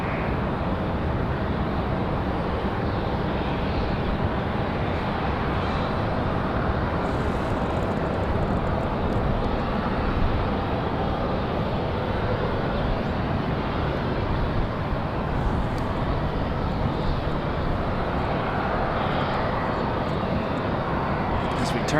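A Southwest Boeing 737-700 jet roars steadily on its takeoff run at Raleigh-Durham airport, a loud, continuous broadband engine rumble filling the whole stretch, with a voice talking over it.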